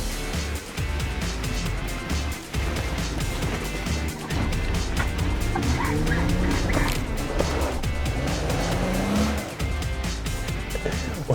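Jeep with a 3.6-liter engine revving at higher RPM as it climbs a snowy hill with wheel slip, a loud continuous engine roar with rising and falling pitch and spinning-tire noise throughout.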